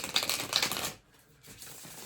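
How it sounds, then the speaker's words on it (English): Tarot cards shuffled in quick riffling bursts, dense and close for about a second, then a near-silent pause and a softer rustle of handling. "let me give it one more shuffle"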